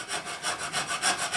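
Hand sanding of a guitar headstock makes a close, steady back-and-forth rasp in about seven even strokes, with no voices.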